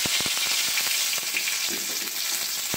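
Dried red chillies dropped into hot oil in a pan give a steady, close crackling sizzle with scattered sharp pops, continuous throughout and with no talking.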